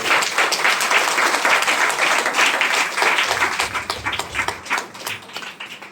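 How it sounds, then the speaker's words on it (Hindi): Loud clapping from a church congregation thanking God during a sermon, a thick, sustained burst of many hands clapping together that thins slightly toward the end. "जोरदार ताली बजाकर प्रभु का धन्यवाद करें।"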